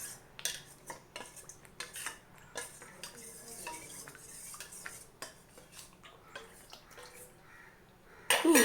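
A spoon stirs papaya halwa, a mixture thickened with milk and cornflour, in a pan, making a run of soft, irregular scrapes and clinks against the metal, fairly quiet, ending in a louder clatter.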